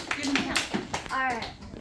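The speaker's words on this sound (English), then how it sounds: "Can we get a class clap?" A school class claps together on a countdown, a short burst of sharp hand claps up close, followed by a teacher's voice and children's chatter.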